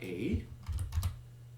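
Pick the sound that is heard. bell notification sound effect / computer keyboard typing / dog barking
computer keyboard typing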